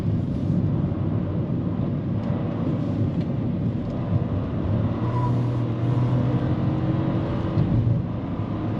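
A Proton S70 sedan accelerates on a hill climb, its engine droning steadily from the cabin and rising with brief shifts in tone as it changes up at low revs.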